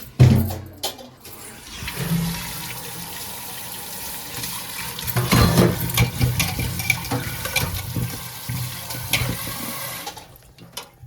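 Potatoes being washed under running water in a kitchen sink: a steady splashing stream with shifting gurgles and handling sounds, no talking.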